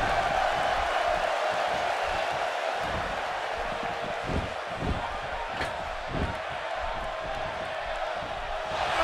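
Arena crowd noise in the wrestling game WWE 2K18 during a Fatal 4-Way match, a steady roar of cheering that fills the whole stretch, with light thuds from in-ring action underneath.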